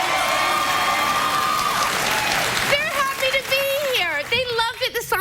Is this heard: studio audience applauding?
yes